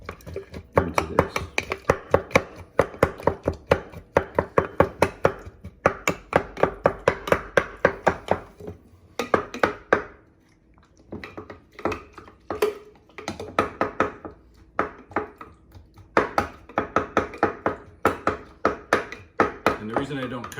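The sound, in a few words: breaking up watermelon to extract juice for a cocktail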